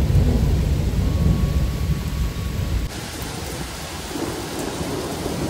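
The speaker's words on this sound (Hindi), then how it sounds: "और काफ़ी ज़्यादा बारिश हो रही है।" Heavy rain pours steadily with a deep rumble of thunder rolling underneath, loud and constant, the low rumble fading partway through.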